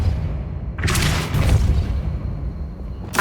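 A Depulso spell cast in Hogwarts Legacy, a sudden forceful whooshing boom that swells and fades over about a second, followed by a lower rumble and another sharp burst at the end.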